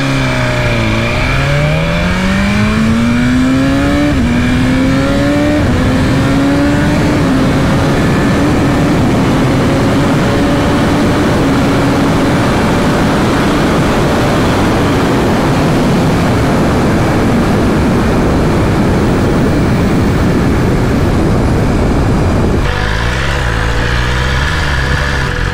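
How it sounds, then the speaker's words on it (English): A 2020 BMW S1000RR or Ducati Panigale sport motorcycle roars up through the gears, engine pitch climbing and dropping with each quick upshift, loud and close, then shifting down near the end, no voices. "The smooth shifting on this motorcycle is tremendous."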